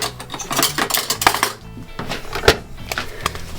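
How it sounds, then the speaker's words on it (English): Dry bread dough ingredients spooned into a wide mixing bowl, with a series of light clinks and scraping taps of a spoon against the bowl, close and fairly quiet, irregular rhythm, no talking. "And then we can pop our dry ingredients in."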